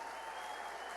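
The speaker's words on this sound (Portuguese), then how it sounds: "Recebe Davi com aplauso aí." A brief burst of applause rises from a church audience welcoming a helper onstage, with even, continuous clapping and a faint steady tone underneath.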